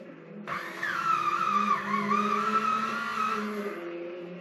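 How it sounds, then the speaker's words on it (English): A modded Mustang GT3 slot car spins its tires on the track in a burnout, giving a sustained squealing whine with a wavering pitch over a low hum, fading slightly toward the end. "I'll do a burnout"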